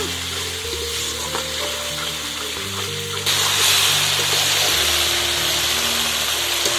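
Spice masala mixed with whisked yogurt fries in a pan with a steady, close sizzle, and stirring scrapes run underneath it. The sizzle grows louder about halfway through.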